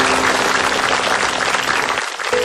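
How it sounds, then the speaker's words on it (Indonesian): A studio audience applauds during an Indonesian television talk show, a dense, steady burst of clapping that dips briefly near the end before picking up again, with no speech over it. "Oke, tepuk tangan untuk Mbak Trinity."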